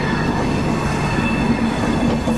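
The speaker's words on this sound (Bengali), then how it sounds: "হাওড়া বিকেনি দুরন্ত" The Howrah Bikaner Duronto Express rumbles into a station, a steady rolling roar of wheels and carriages that holds loud and unbroken throughout.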